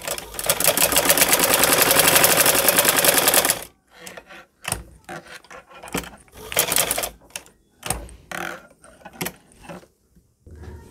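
Stitching a straight seam, a sewing machine rattles loudly in one steady run of about four seconds, then falls to a few scattered clicks and short mechanical bursts with pauses between.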